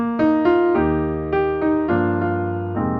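A solo piano plays the melody of a song over sustained chords, notes struck one after another at a steady, unhurried pace, close and clear with no voices.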